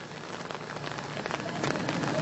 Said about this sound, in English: it's raining here, exactly